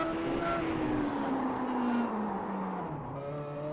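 A classic Indycar racing machine, the number 5 Madgate car, drifts through a corner at Laguna Seca with a loud onboard engine howl that falls steadily in pitch, its tires scrubbing beneath the roar.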